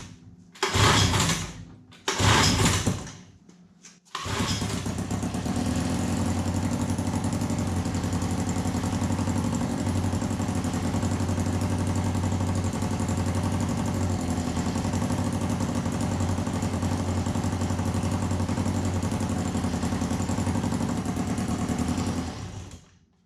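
A 1950s Johnson Seahorse 3hp outboard motor is pulled twice with short bursts, then catches and runs steadily at a fast, buzzing idle for nearly twenty seconds, close by with no talking.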